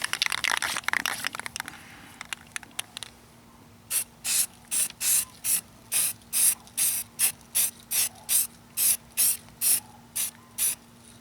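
Short bursts of primer from a spray can onto a sanded, cleaned patch of car paint, a rhythmic series of about fifteen close, hissing puffs evenly spaced, preceded by a louder rattling stretch at the start.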